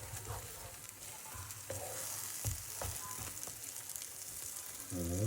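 An omelette with lamas and alamang fries in a pan, giving a soft, continuous sizzle punctuated by light utensil taps and scrapes, with a brief voice at the very end.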